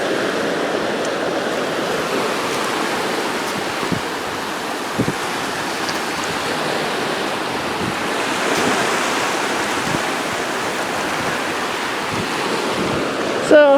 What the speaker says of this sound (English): And it's fun to be beside the sea.